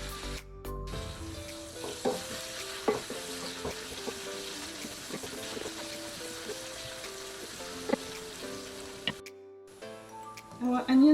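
Onions frying in a pan, a soft continuous sizzle with occasional clicks of stirring, mixed with background music tones and a little noise at the end.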